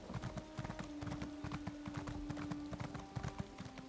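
Horse hooves clip-clop in a steady rapid rhythm as a mount gallops across a level in The Elder Scrolls Online, loud and close throughout, accompanied by a faint sustained musical tone.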